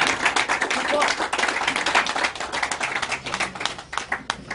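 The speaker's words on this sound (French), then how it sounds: "il faut applaudir" A small audience at an informal neighbourhood talk in Angondjé claps in quick, uneven bursts, close and lively, with voices talking underneath.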